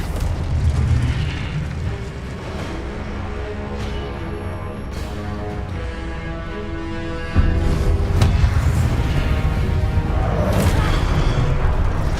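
The Confringo blasting spell in Hogwarts Legacy, booming fiery explosions over a roaring sustained rumble, with a fresh loud burst partway through that stays heavy to the end.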